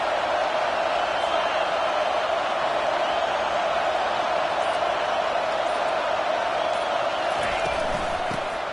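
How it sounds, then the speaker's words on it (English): Football stadium crowd roaring and building in volume as a home defense makes a stand in an Ole Miss versus Georgia game, a steady wall of dense noise filling the whole span without a break. "It is getting loud as this crowd tries to help its defense."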